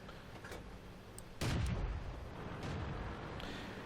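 Tank cannon in World of Tanks fires one heavy boom partway through, followed by a lingering rumble of in-game battle noise, with no speech.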